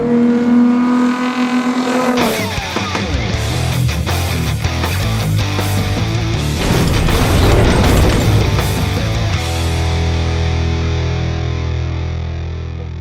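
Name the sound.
Nissan Spec Z race car driving on racetrack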